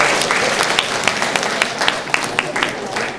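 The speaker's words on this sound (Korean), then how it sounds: "박수 한번 쳐주시죠." Clapping from a meeting of delegates at an orientation session, loud and near, with distinct individual claps standing out over a broad wash of applause and some talk mixed in.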